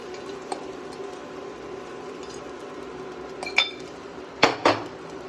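Tuna thoran being stirred in a cooking pan, with a few sharp metallic clinks and scrapes of a utensil near the end over a steady low kitchen hum, close by and with no talking.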